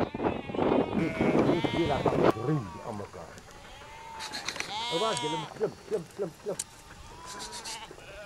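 A large flock of around a thousand sheep on a slow farm trek, bleating in many overlapping calls near and far, with a voice talking over the first part before separate bleats ring out clearly.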